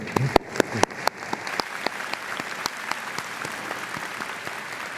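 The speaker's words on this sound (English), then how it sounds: "Please give them a round of applause." Applause from a sizable crowd at a university commencement ceremony, steady clapping with a few sharp close claps at the start, continuing evenly for several seconds.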